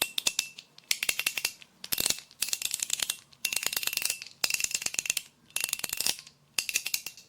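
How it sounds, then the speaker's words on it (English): A fidget spinner with beads in both bead slots whirs in repeated bursts of rapid clicking and rattling ticks, each spin lasting about a second, close and crisp with short pauses between. "You can also install beads on both bead slots. This creates a sense of high and low notes, giving the sound a more rhythmic feel."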